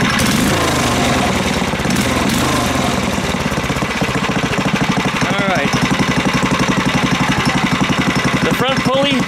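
Predator 301 engine idling and running in a Coleman KT196 go-kart, a steady loud mechanical drone throughout with pulsing harmonics, a few pitch rises as it revs slightly, and some background talk mixed in.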